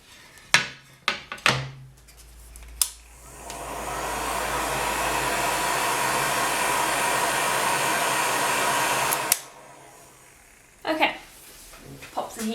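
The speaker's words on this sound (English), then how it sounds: "pop the heat gun down." A heat gun cures a liquid polymer clay pendant, a steady close blowing roar that runs for about six seconds after a few knocks and handling sounds, then cuts off, followed by more light clatter.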